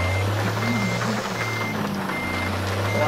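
Truck reversing alarm in American Truck Simulator, a steady stream of repeating beeps over the continuous low drone of a heavy truck engine, constant and fairly loud throughout.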